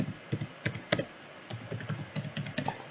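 Keys on a computer keyboard tapped in short irregular bursts while a password is typed, soft close clicks with brief pauses and no voices.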